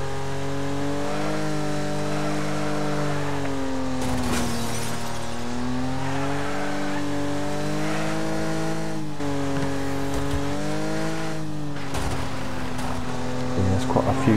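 Race cars in the Wreckfest tournament mode roar and rev steadily with harmonic engine whine rising and falling, broken by sharp crunching impacts around four and twelve seconds as cars collide, loud and continuous throughout.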